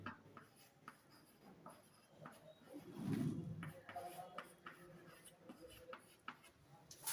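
A pen scratches across paper in short strokes while maths is worked out, faint and close, with a quiet voice talking over it.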